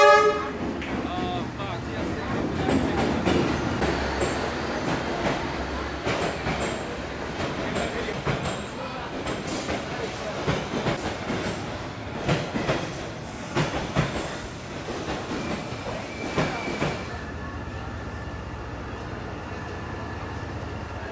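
A long-distance train heading north to Hanoi in Vietnam rumbles steadily on the rails with clickety-clack rhythm and brief horn toots. Faint voices sit under the continuous carriage noise, which eases toward the end.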